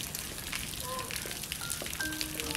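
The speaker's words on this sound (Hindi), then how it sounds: "ये तूफान और ओले नहीं रुके, मेरा सारा घर और मेरी सारी फसल तबाह हो चुकी है।" Storm rain and hail pour down on a rural farm with crops, a steady hissing wash of drops filling the whole stretch with faint scattered patter on top.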